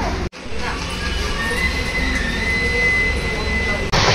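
Steady rumble of a moving train approaching Dakshineswar, with rolling wheel noise and a faint high metallic whine, continuous throughout, briefly dipping near the start and end.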